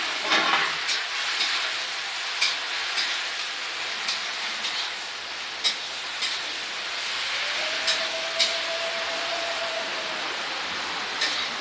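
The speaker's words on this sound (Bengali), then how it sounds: "এই যে বাঁধাকপিটা দিয়ে দিলাম এর মধ্যে" Cabbage sizzling in a hot pan, a steady broadband hiss of frying with faint crackles and occasional sharp pops over roughly twelve seconds, no talking.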